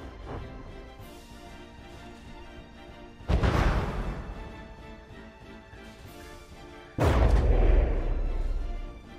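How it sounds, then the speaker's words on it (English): Naval shells fire and burst in the game From the Depths: two heavy booming blasts, one around the middle and one near the end, rise over a low rumbling battle background with no talking. "You saw a couple of those shells hit the masts and then detonated in the air, sending fragments everywhere."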